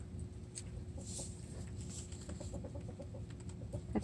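Hens cluck in the yard, with Big Mama, the dominant hen, among them: short, soft repeated clucks over a low background rumble, moderately close and without talk.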